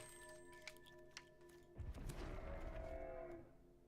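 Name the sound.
Hellion card mooing sound in MTG Arena video game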